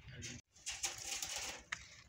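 Pigeons coo softly inside a pigeon loft, low throaty calls murmuring faintly and close by, with light rustling and shuffling of birds around them.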